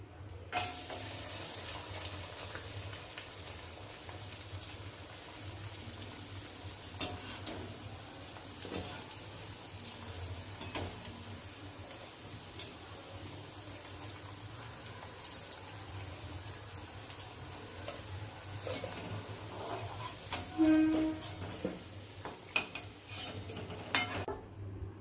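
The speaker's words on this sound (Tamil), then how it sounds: "இப்போ எண்ணெயில் போட்டு பொரிக்க போகிறேன்." Sago avul vadam fry in hot oil with a steady low sizzle and bubbling throughout, joined by occasional scrapes and clinks of a ladle against the pan, fairly faint and without talk.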